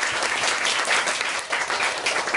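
Steady, energetic applause from a live band concert audience, a dense close wash of many hands clapping without pause.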